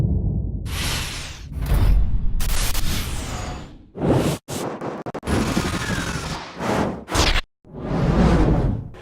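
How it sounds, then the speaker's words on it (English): Rapid whooshes and swishes sweep past one after another for a card flying around the frame, separated by brief silent gaps. They are loud, close and layered, with sharp, gunfire-like bursts and no voices. "getting those whooshes in there to match the movement of the card as it flew around the screen"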